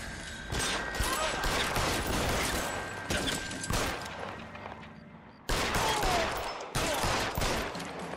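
Gunshots in the detective game L.A. Noire, a few loud sharp bursts separated by brief pauses, with an abrupt cut to silence midway before the firing resumes.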